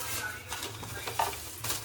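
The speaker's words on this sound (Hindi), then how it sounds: "और यहाँ पे सिर्फ खीर बन रही है" Kheer is stirred in a kitchen pot, a spoon scraping and swishing through the thick milk mixture in a few soft strokes over a low background hum, with no talk.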